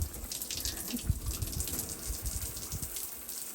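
Warm water runs from an outdoor summer shower, a continuous splashing gush with uneven spatter, close and moderately loud, with no voices over it.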